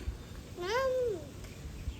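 A voice imitates a cat with a single drawn-out meow, rising then falling, against a quiet room.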